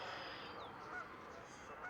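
Geese honking at a lakeside campground in the Kettle Moraine forest of Wisconsin, several calls over a steady outdoor background, moderately distant.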